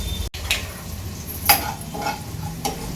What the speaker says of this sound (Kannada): ಎರಡು ಸ್ಪೂನ್ ಗಸಗಸೆ ಹ್ಞೂ ಜೀರಿಗೆ ಹುರ್ಕೊಂತ ಇದ್ದೀನಿ